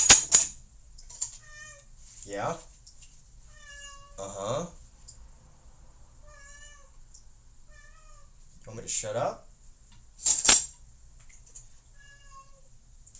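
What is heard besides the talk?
cat meowing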